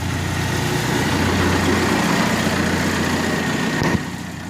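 A Weiss McNair filbert sweeper runs steadily with its conveyor belts turning, a loud continuous engine drone with low rumbling and mechanical clatter and a small knock near the end.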